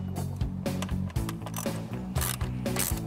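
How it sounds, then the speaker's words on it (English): A ratchet with a 10mm socket works the bolts on a 2015 Mustang coolant tank, producing a close run of rapid, uneven mechanical clicks and rasping strokes that repeat in short bursts. "The next tool you're going to need is just a 10mm socket and some kind of drive tool to take these two bolts out"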